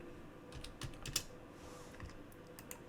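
Soft, uneven clicks of a computer keyboard as a few keys are typed quickly, faint and close, with no voices.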